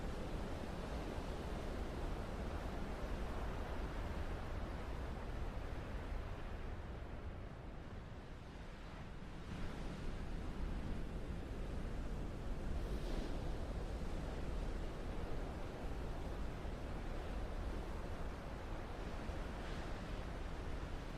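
Ocean surf rolls onto an Oahu beach, a continuous washing roar of breaking waves with a brief dip in the middle before swelling again, steady and moderately distant, with some wind noise on the microphone.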